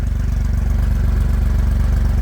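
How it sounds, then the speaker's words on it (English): A Gator utility vehicle's engine idles with a steady, low rumble and a throaty exhaust pulse, close by and fairly loud, with no talking. "start her up so I can hear the exhaust back here"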